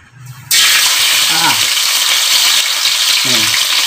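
Pork belly (liempo) hits hot oil in a pan and erupts into a loud, steady sizzle with spattering grease that continues throughout, while someone speaks briefly over it.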